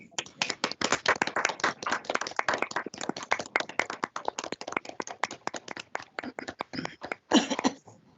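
A panel of appellate court judges applauds newly admitted lawyers over unmuted microphones, a dense, steady round of clapping that runs throughout, fairly close and uneven in texture, with no talk over it.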